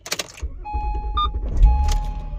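Acura MDX struggling to start with a suspected bad fuel pump relay: a key click, then a low engine crank with electrical chimes and tones over it, close up and without talk.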